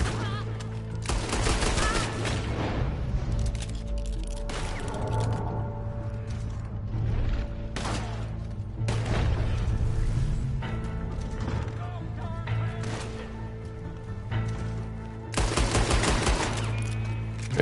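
Rapid bursts of gunfire fill an online Red Dead Redemption 2 match, loud and nearly continuous volleys with clacking mechanisms and a steady background hum, and a few short gaps between rounds.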